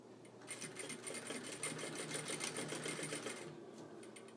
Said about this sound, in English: And then do a lock stitch right at the very end here.